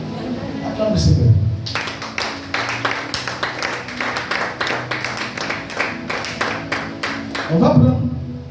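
Congregation in church applauding together in praise, a dense run of steady rhythmic clapping lasting several seconds, with a voice speaking briefly before and after it.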